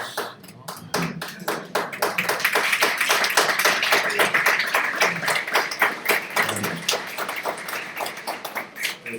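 Congregation clapping during a Sunday church service, a dense sustained patter of many hands that swells and continues steadily for several seconds.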